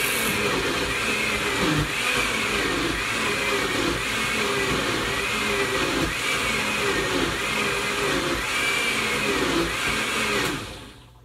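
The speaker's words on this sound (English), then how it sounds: "we're gonna put this into the blender" A modest household blender grinds a fairly full jar of raw pork with a loud, steady whirring drone up close that cuts off abruptly near the end.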